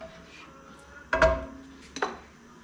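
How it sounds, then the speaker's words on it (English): A spoon scraping and clinking in a pan as tarragon is stirred through melted butter, two distinct clattering strokes close by against a quiet kitchen background, with no one talking. "we'll just stir that through the melted butter"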